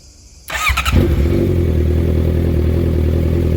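A Honda 650F motorcycle engine with its DB Killer removed starts after a brief quiet moment, clattering briefly before settling into a loud, steady, deep idle rumble close by.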